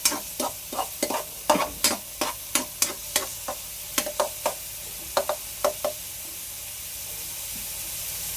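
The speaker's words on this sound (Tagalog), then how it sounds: "Ipag-golden brown natin yung kaunti ang bawang sa yung sibuyas." Garlic and onion sautéing in a pan, a steady soft sizzle under a regular series of sharp spatula scrapes and taps, about a dozen strokes, then the sizzle continuing alone.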